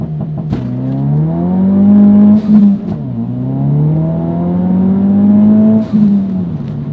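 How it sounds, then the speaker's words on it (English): A Ford Focus RS launches from a standstill under launch control to 60 mph, its engine note climbing steeply, dropping briefly at each gear change and climbing again, loud and continuous from inside the car. "So we're gonna go ahead and do a launch control, kind of a 0 to 60."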